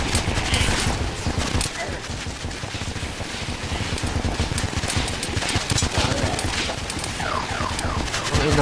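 Rapid, dense gunfire from a weapon in Terraria with the Calamity Mod keeps up a steady barrage of shots and impacts, with voices mixed in beneath the game sounds.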